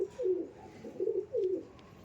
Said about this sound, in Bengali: pure dragon হেডের Payra